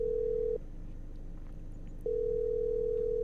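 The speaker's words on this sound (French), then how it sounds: "J'appelle mon grand-père." Steady telephone dial tone in a video game when calling grandfather, sounding alone in two stretches split by a short break, over low background noise.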